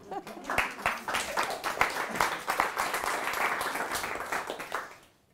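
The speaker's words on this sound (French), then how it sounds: "Il faut l'applaudir." Audience applause in a lecture hall during a French conference talk on brain mechanisms and emotions: dense clapping builds quickly, holds steady for about five seconds, then stops abruptly.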